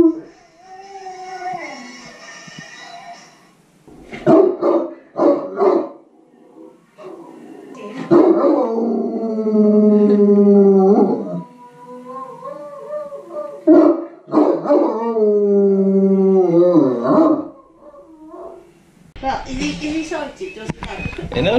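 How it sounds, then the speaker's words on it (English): A big dog whines and howls with excitement, rising and falling cries in several long bursts, close and loud, with a person talking to it between them and a brief rustle at the end. "He's already whining."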